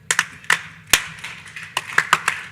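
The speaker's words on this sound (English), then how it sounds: "Lewis is going to lead us in a little bit of clapping." Scattered, uneven handclaps from a small audience at a conference session, about eight sharp claps over a couple of seconds with no steady rhythm, close and moderately loud.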